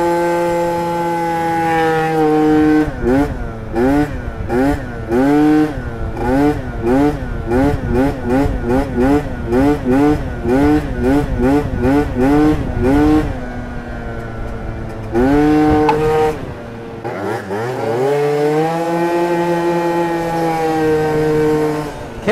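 A tuned Booster scooter engine revs hard in a fast rising-and-falling pattern for several seconds, drops back, then flares up again, loud and close with no talk over it.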